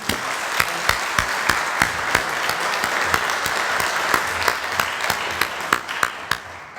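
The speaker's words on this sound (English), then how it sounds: "Please give a round of applause for Bravo Company." An audience at a leadership school graduation ceremony claps for a graduating company, with sustained applause and a few sharper individual claps standing out at a fairly quick pace.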